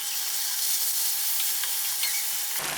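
Prawns for Chettinad-style prawn thokku sautéed in a pan over a high flame, giving a steady close sizzle and hiss that runs almost unbroken before cutting off abruptly near the end.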